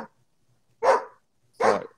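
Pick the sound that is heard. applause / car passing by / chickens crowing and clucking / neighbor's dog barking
neighbor's dog barking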